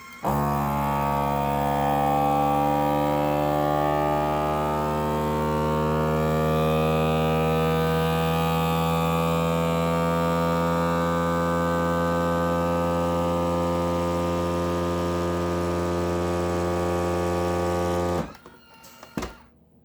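A vacuum sealer's steady motor drone with a strong humming tone runs for many seconds, its pitch slowly rising from low to high, then cuts off abruptly, followed by a couple of soft clicks.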